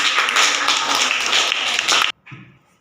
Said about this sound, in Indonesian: kita kasih sekali lagi tepuk tangan untuk kelompok 1